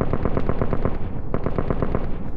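Rapid bursts of suppressed automatic gunfire in Call of Duty: Advanced Warfare, two quick strings of sharp, punchy shots close up, with a brief pause between them.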